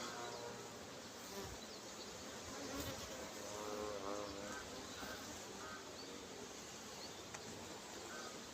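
Dense, steady buzzing of a honey bee colony close at hand while a full brood box is opened for inspection, with drones and the queen among the comb; a voice talks quietly over the continuous hum.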